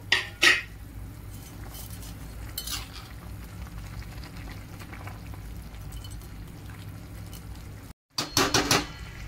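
A spoon stirs noodles in a pot of boiling water, with soft scraping, occasional metallic clinks against the pot and faint bubbling, all fairly quiet and with no talk.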